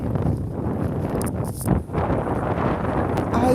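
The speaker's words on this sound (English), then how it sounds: "it's getting windy" Wind buffets an outdoor microphone in steady low rumbling gusts, swelling briefly near the middle, with no clear speech over it.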